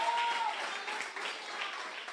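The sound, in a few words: church congregation applauding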